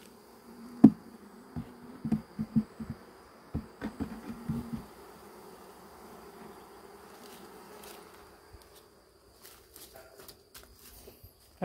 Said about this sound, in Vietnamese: đây là cái đàn ong, hai cái đàn ong Ý đang nuôi thực nghiệm